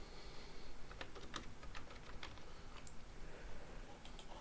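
Soft, rapid clicking of a computer keyboard as Python code is typed, quiet and steady with irregular keystrokes over low background hiss, no voices.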